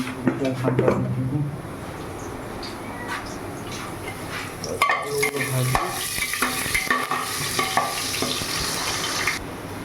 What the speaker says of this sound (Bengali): বন্ধু দেখতে পাচ্ছ আলুগুলো ভাজা হয়ে গেছে